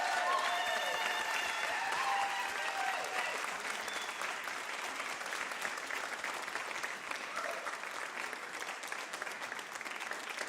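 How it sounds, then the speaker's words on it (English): A theater audience applauds the cast after a staged reading of a Juneteenth play, a steady, dense wash of clapping from a crowd that holds evenly throughout, heard from some distance, with faint voices mixed in. "Please give them a huge round of applause."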